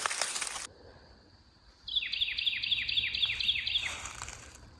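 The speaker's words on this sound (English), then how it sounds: "If you know what kind of bird that is" A wild bird in woods sings a clear, repeated series of about eight bright descending whistled notes at moderate distance, preceded by a burst of broadband noise, with faint background ambience.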